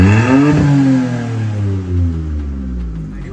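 A Mini Cooper's aftermarket exhaust revs loudly and close, the engine note climbing sharply then easing back down into a throaty, falling drone with no talking.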